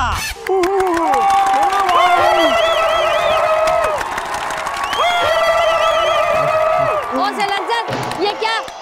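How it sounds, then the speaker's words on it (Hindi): A television dance competition audience cheers loudly with whoops and shouts, sustained for several seconds before trailing off. "तालियां"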